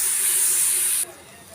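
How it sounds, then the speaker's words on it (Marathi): Corn cobs roasting until crisp give a loud, steady hiss for about a second, then drop abruptly to a faint background hiss. "आता याला आपण छान खरपूस भाजून घेऊयात."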